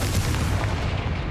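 A Confringo blasting curse in the Hogwarts Legacy video game, heard as a short, steady, heavy rumbling boom that stays loud throughout.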